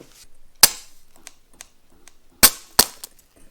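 Short, sharp crackling bursts from tack welding across a small gap in a metal piece previously cut with a Dremel, three distinct zaps spaced over a few seconds with quiet pauses between.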